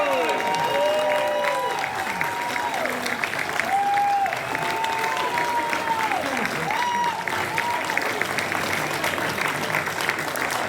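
Convention audience at a sci-fi con Q&A panel in Edinburgh applauding and cheering as guests take the stage, a dense, sustained wall of clapping with whoops and crowd voices throughout.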